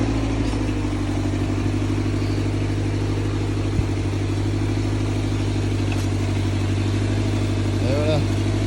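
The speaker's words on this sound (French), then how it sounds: "Avec un vieux tracteur qui a son âge." An old tractor engine runs steadily while hilling rows in a potato field, a loud, constant low throb with a droning hum, and a voice speaks over it.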